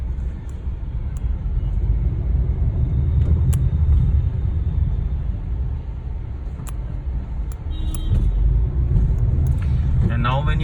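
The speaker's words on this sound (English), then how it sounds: "Few of the cars, they do pass." Cars roll slowly through a congested toll plaza in Gurgaon, a steady loud rumble of engines and tyres with someone talking over the traffic throughout.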